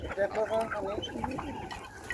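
Pigeons coo softly at a market in a few rounded, throaty calls, with faint background murmur around them.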